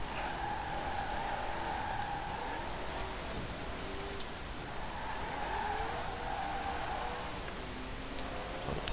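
Race car engine droning steadily in Forza Horizon 4, a continuous mid-level roar with faint tire scrub and skidding layered in, no clear bursts, sustained for the whole stretch.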